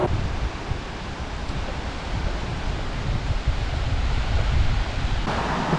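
Oshinkoshin Falls in Hokkaido, a large, powerful waterfall, roaring as a steady loud wash of rushing water that holds without break, with no voices heard.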